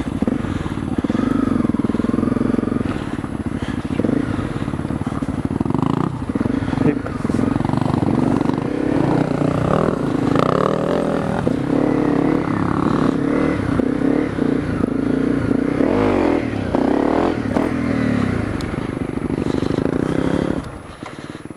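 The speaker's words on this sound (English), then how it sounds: "I heard the one bike and then it sounded like somebody's kickstarting one." Honda CRF250L and Husqvarna TE250 dual sport motorcycles run with a steady, droning engine hum and some revving and clatter throughout, fairly loud and close, with people talking over it.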